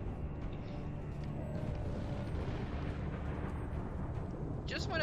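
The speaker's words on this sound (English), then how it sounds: "Fire in the hole! Target locked! Firing salvo one!" Teapot mortar in the Alice Madness Returns video game fires a salvo, a sustained roaring, rumbling barrage of dense low booms that stays loud throughout, ending with a brief whistling sweep.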